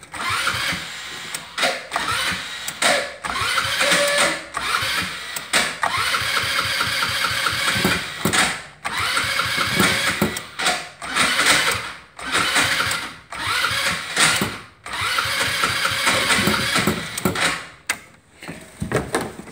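Carbureted go-kart engine cranked cold by its starter motor, grinding and sputtering through repeated start attempts with brief pauses between bursts, loud and close.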